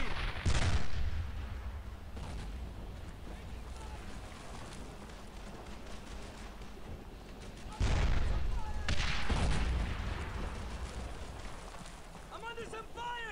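Heavy artillery thumps and gunfire on a World War II battlefield in Brothers in Arms: Earned in Blood, with a couple of loud booming blasts over a continuous rumbling din and shouting voices in the mix.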